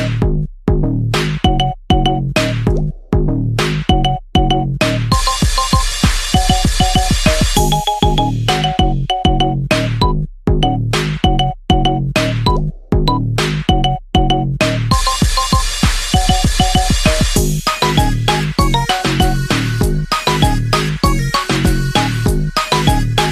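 A ringtone plays loud and continuous, with a punchy repeating beat and bright synth melody looping through sections.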